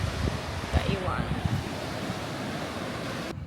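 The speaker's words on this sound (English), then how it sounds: "every now and then a big rush of water comes in" Ocean waves rush onto a sandy shore with a continuous broad roar. Wind buffets the microphone, and a brief voice is heard early on.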